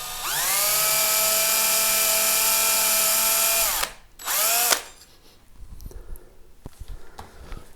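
A power drill whines steadily into a Thinline Telecaster guitar body for nearly four seconds, stops, then runs again in a short burst, followed by quieter handling noises on the workbench.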